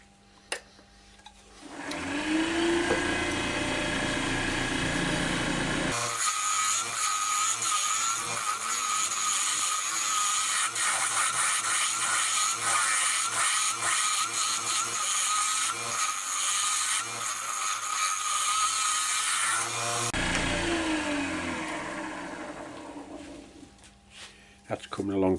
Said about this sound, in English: Right, I'm going to carry on with the scraper for a bit.